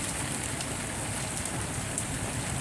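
Heavy rain mixed with hail and sleet pours down steadily outdoors near a garden pond, a dense, even hiss with occasional sharper pattering hits throughout.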